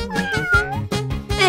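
Kittens meow repeatedly and loudly up close, several overlapping high-pitched cries following one another in quick, uneven rhythm.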